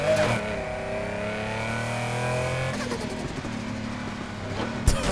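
A maxed-out race car in Need for Speed Heat revs hard, engine pitch climbing steadily then dropping into a new gear and climbing again, loud and close, ending with a sharp thump.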